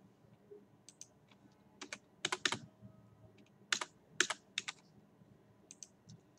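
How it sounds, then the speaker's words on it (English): Keys clatter on a computer keyboard while an email address is entered, a quiet, close series of short clicks in uneven bursts with brief pauses between them. "Here we need to type in the email ID."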